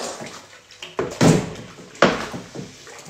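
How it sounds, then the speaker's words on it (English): A board is washed under running water in a kitchen sink, splashing bursts and clunks of the board knocking against the basin, fairly close and irregular. "Not throw it out, just wash it."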